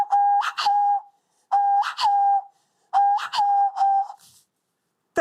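Three loud, close phrases of shrill finger whistling, each a short warbling tune with brief pauses between, played alone.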